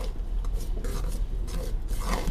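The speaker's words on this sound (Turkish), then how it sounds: "Karıştırmaya başladık." A thick mixture loosened with chickpea cooking water being stirred in a bowl, a continuous scraping, rasping churn close up with a low background hum.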